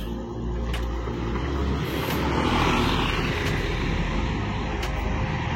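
A Kurnia JRG bus accelerates hard at a toll gate in Aceh, a loud, continuous engine roar that swells and holds steady for several seconds, close by.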